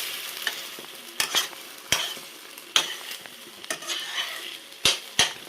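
Egg curry being stirred in a pan: a spoon scrapes and knocks against the metal in irregular strokes, about eight sharp clacks over a soft, steady sizzle.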